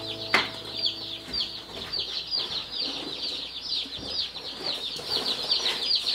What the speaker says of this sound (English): 25 Freedom Ranger chicks and 25 Black Freedom Ranger chicks